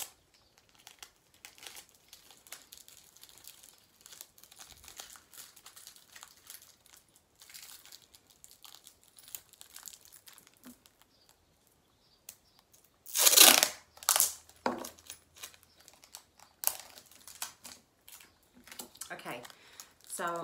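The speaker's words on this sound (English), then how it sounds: "So then we'll cover that again in foil" Aluminium foil is wrapped and crumpled around a Christmas bauble, with soft intermittent crinkles early on, then loud, close bursts of crunching and scrunching, with speech in between.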